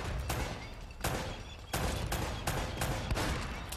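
Gunfire in the video game Uncharted: Drake's Fortune rings out as several sharp, loud shots in an irregular string over steady background game noise, with no talking.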